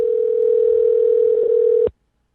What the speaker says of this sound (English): You let me know when we're dialing, Lewis.